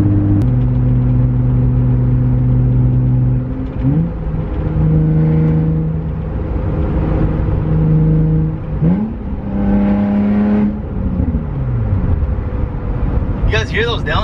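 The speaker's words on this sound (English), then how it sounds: "You guys hear those downshifts, bro? So precise." A Nissan 350Z fitted with a Torque Solutions short shifter downshifts on the street, its engine revs blipping up and settling several times under a steady drone, with voices talking over the engine.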